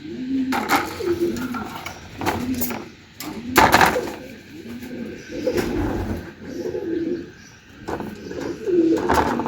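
Racing pigeons coo in a steady run of soft, low, rounded calls from several birds close by, overlapping in loose pulses, with occasional sharper chirps and a few bright clinks mixed in.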